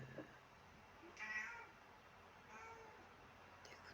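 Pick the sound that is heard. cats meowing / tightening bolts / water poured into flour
cats meowing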